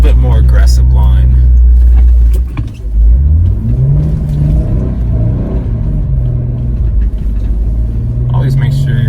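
A Jeep climbs Hackett Gulch Trail in Colorado in 4 low with no lockers engaged. Its engine rumbles loud and close, with a brief dip and shifting revs, under someone talking.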